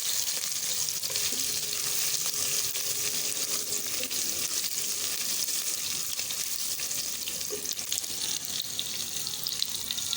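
Sliced onions fry in a pan over a low flame, giving a steady, even sizzle that carries on unbroken from start to finish with no talking.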